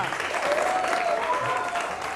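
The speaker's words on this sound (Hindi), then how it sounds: "जिवा के लिए बहुत सारी तालियां।" A studio audience on a morning television show claps for little Ziva at her birthday celebration, a lively wash of applause with a faint tonal line drifting through it, bright and fairly close.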